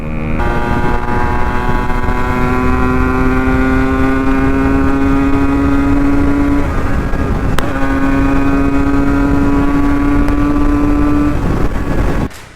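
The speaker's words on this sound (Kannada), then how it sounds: "ಅರ್ಧ ಕಿಲೋಮೀಟ್ರ್ ದೂರದಲ್ಲಿ ಬರ್ತಿರೋದು, ಇಲ್ಲಿವರೆಗೂ ಸೌಂಡ್ ಕೇಳಿಸ್ತಾ ಇದೆ RXದು" A Yamaha RX 135 two-stroke motorcycle, an RX 100 converted to 135 with a 4-speed gearbox, drones steadily with a buzzing engine note that rises slightly in pitch, holding loud and constant throughout with a short dip midway.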